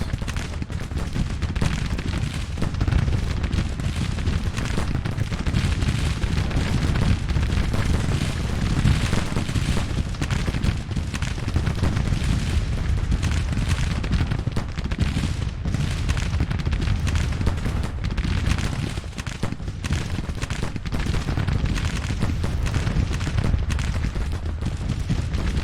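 Cannon and rifle fire in the Civil War strategy game Grand Tactician: The Civil War, a dense, continuous battle din of overlapping musketry crackle and deep booms that stays loud and steady throughout.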